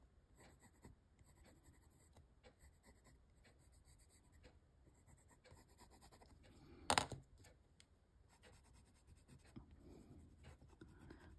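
Brush or pencil strokes going back over a drapery study of white cloth with blue reflections, a soft repeated scratching rhythm, close and quiet, with one brief sharper tap midway.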